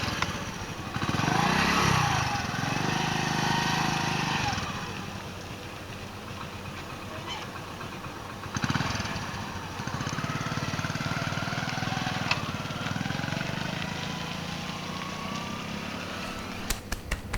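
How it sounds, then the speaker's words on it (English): A motorbike engine on an Indian road runs and revs unevenly as a first-time rider clutches and pulls away, rising in two surges and then settling into a steadier drone with background noise. "This is the first time she's ever clutched a motorbike before."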